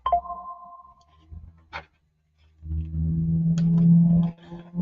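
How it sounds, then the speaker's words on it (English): A phone notification plays a sonar-like ping tone that rings out and fades, followed by a longer, louder electronic tone sequence, with faint clicks between. "Bear with me, let me turn this notification down."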